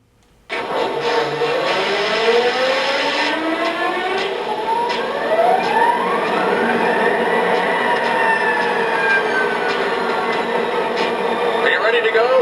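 An MTH Montana Rail Link SD45 low hood diesel model locomotive powers up with an abrupt start, then a steady loud electronic engine drone with rising and falling tones, while people talk over it.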